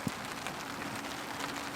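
Rain patters steadily on a campsite tarp, a dense continuous hiss of drops close by with occasional louder taps, no voices.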